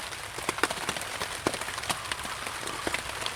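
Light rain pattering on a tent and surrounding surfaces outdoors, soft and steady with scattered sharper drops, faint and alone.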